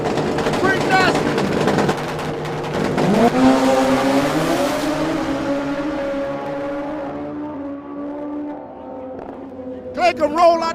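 Drag racing cars accelerating hard down the track at a Midwest racing event, with a loud engine roar that rises then fades into the distance, a renewed burst near the end, and an announcer talking over it.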